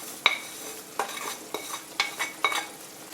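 Fried vermicelli being stirred into boiling water in a pan, with about five distinct scraping stir strokes evenly spaced over a soft background bubbling, close and moderately loud.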